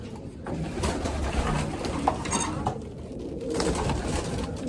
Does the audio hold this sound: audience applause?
no